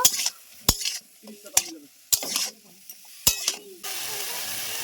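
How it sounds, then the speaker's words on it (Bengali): Cauliflower pieces frying in mustard oil with salt and turmeric in a pan, stirred with sharp scraping clacks of a spatula at irregular intervals over a steady close sizzle that swells louder near the end. "ভালোভাবে কপিগুলো আমি ভেজে নেব"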